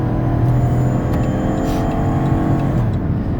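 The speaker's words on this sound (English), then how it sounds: "so you can hear the engine run, feel the transmission shift" A 2016 Dodge Caravan wheelchair-accessible van engine hums loudly and steadily from inside the cabin, with a low droning rumble as it runs and pulls.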